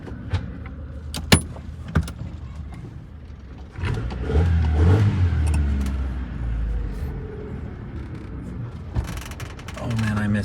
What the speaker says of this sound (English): So we're gonna drive the CRX and find out.